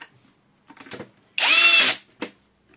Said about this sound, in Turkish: Burada ben torklu bir şarjlı matkap kullanıyorum ve bu tork benim işimi çok kolaylaştırıyor.